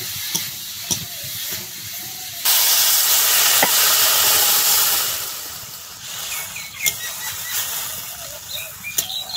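Water poured into a hot pan for a Bengali aam shol curry of shol fish and potatoes: a sudden loud hiss of steam that holds for a few seconds and then fades into a softer crackling sizzle with occasional clinks.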